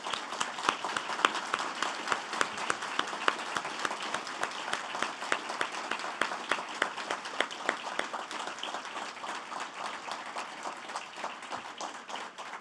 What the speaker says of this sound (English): I would like you all to please give him a round of applause right now.